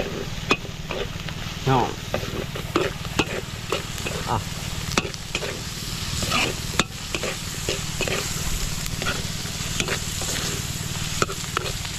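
Vegetables are dropped into a pot of snack soup and stirred for a group of workers. A steady simmering sizzle runs under frequent scraping stirs of a utensil against the pot, and a person speaks briefly nearby.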